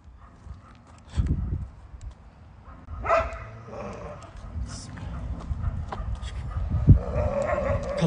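Dogs bark in bursts at an abandoned workers' housing block, some barks near and sharp, others farther off, while people speak nervously over them.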